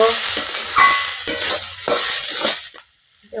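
Chopped banana stem (thor) sizzles in a hot pan while a spatula scrapes and stirs it in several rhythmic strokes, close and loud, and the frying dies down near the end.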